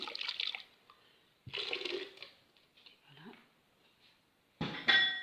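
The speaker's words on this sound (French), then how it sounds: "on verse tout ça dans un récipient qui va aller sur le feu" Liquid poured from a container into a pot for homemade pizza sauce, splashing in short bursts up close, separated by quiet gaps, with a louder pour toward the end.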